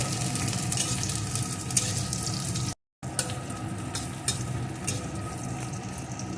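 Chopped onions sizzle in hot oil in a home kitchen, a steady dense crackling hiss with occasional louder pops, broken by a brief silent gap partway through.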